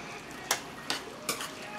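Ground beef frying in a pan while being stirred, with a steady low sizzle broken by four sharp scraping strokes of the utensil at roughly even intervals, close and fairly quiet.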